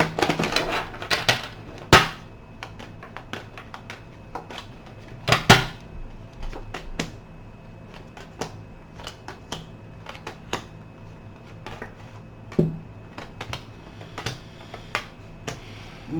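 Tarot cards being shuffled by hand, a run of crisp dry taps and riffling clicks at an irregular pace, with a few louder snaps and flicks standing out against a quiet room.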